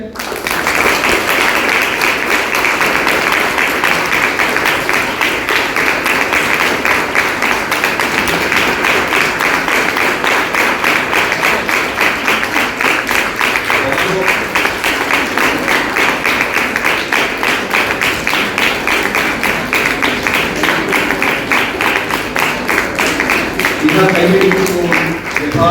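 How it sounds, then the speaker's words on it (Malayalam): A large audience claps steadily for the full stretch at a talk on mental health, a dense, even wash of applause that never thins out. "ഈ ജീവിതത്തിൽ നിങ്ങൾ നേടിയ ഓരോ വിജയത്തിനും നമുക്ക് നല്ലൊരു കൈയടി കൊടുത്തുകൊണ്ട് നമുക്ക് അനുമോദിക്കാം"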